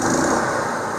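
A new Generac portable generator catches on the second pull of its recoil starter, its small engine settling into a loud, steady running drone that holds for the whole second with no pause.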